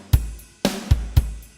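A short, dry drum pattern: punchy kick hits with a snare crack between them, clean and uncompressed, close and alone.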